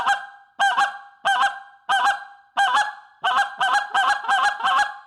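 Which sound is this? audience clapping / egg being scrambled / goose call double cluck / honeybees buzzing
goose call double cluck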